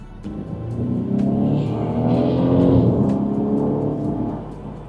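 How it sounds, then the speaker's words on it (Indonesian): The engine of a BMW X4 xDrive or Mercedes GLC Coupe SUV coupe in Sport mode builds into a throaty rev that rises and falls over a few seconds, with crisp pops on top. "Bunyi mesinnya sih yang bikin Sport sama Sport Plus di mobil ini seru banget."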